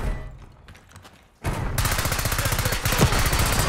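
AS VAL rifle firing in the video game Black Ops 6: after a quieter opening, loud rapid automatic bursts erupt and continue steadily to the end, with no talk.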